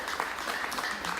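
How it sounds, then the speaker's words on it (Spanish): Brief burst of applause from a television studio audience during an interview, dense steady clapping throughout with a faint voice mixed in. "un aplauso"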